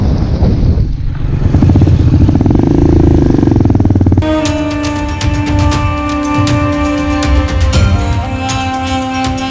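A trail motorcycle engine runs loud and close on a snowy ride in Deosai, its steady drone shifting abruptly partway through, with rattling and buffeting wind noise.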